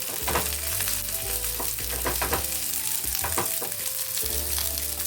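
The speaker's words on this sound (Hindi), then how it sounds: "ये डाल के हमें इसे भी अच्छी तरह लाल करके फ्राई करके लेना है।" Onion and spice masala frying in a pan for a Maharashtrian-style prawn curry, a steady loud sizzle broken by repeated scraping stirs, with a low hum underneath throughout.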